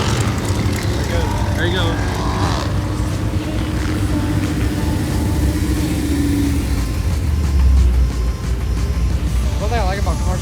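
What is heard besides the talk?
Chevrolet Corvette C7 engine revving loudly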